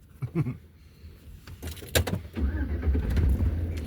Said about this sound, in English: Was that the same truck that came by earlier?